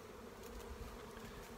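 Bees swarm busily around a hive outdoors, a steady, continuous low buzzing drone that fills the whole moment at moderate distance, with no talking.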